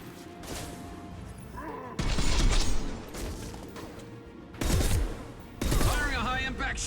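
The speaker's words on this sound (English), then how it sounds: "Firing a high impact shot!" High-impact gunfire in the Mass Effect video game, heavy shots bursting loudly in a few separate blasts amid combat noise, with a voice talking at moments.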